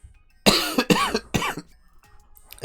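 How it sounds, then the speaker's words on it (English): A person who is ill coughs three times in quick succession, close and harsh, each one short and chesty, followed by quiet breathing. "I won't be coughing as much"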